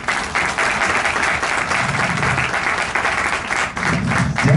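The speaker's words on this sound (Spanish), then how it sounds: "Un aplauso para ellos, por favor." Audience applause at an awards ceremony held in a Madrid casino hall, dense, even clapping from many hands sustained for several seconds, with no voices over it.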